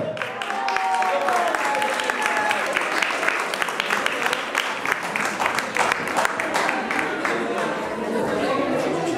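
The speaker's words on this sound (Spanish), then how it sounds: "¡Fuerte el aplauso!" Loud crowd applause for a dance group performing zapateo challenges at a Catholic community event, dense clapping mixed with chatter and some voices, sustained across the whole stretch.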